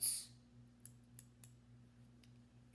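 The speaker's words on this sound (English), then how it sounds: "you're going to grab scissors" Three sharp scissor snips sound in a quiet room at a steady pace, close and crisp against faint background hum.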